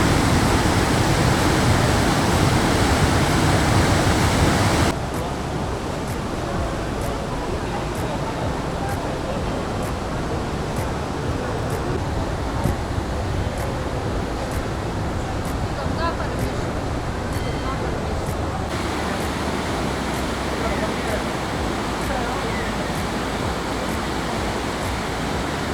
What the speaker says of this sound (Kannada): ಈ ನೀರು ಹರಿಯೋ ಸೌಂಡ್ ಕೇಳೋಕ್ಕೆ ಒಂಥರ ಮನಸ್ಸಿಗೆ ಖುಷಿ ಆಗುತ್ತೆ